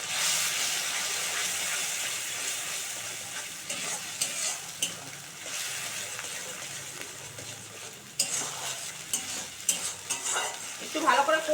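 Hilsa fish curry sizzling and frying in a pan with mustard paste stirred in, a steady loud hiss throughout with scraping stirs and brief louder spatters near the end.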